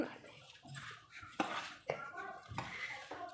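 Rava laddu mixture of semolina and sugar being mixed in a metal vessel, with clinking utensil scrapes and knocks recurring irregularly at close range under soft background noise.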